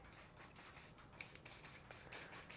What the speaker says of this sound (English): Just going to introduce a little bit of WD-40.